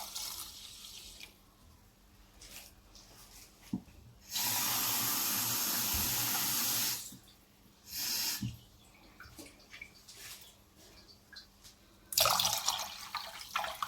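Water is poured into washed foxtail millet rice and milk in a cooking pot for pongal, a steady splashing stream of a few seconds, followed by shorter pours and clinks, with no talking.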